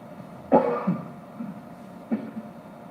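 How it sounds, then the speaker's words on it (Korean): A person coughs sharply a couple of times close by, followed by a softer throat-clearing cough a moment later in an otherwise quiet room during a Sunday church service. "좀 긴장하고 예민하면은요, 기침이 나오죠"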